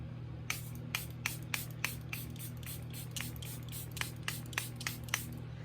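A Charlotte Tilbury setting spray mist pumped in a rapid series of about a dozen short, crisp hissing spritzes, close and fairly quiet over a low steady hum, with no talking.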